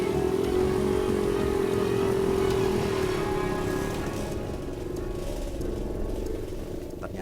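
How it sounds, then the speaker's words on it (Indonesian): A motorcycle labours along a muddy village road in East Java, its mid-pitched engine droning steadily and close, then easing back slightly in the second half with some rattle. "saya harus turun dari kendaraan agar motor yang saya naiki bisa melewati jalanan berlumpur."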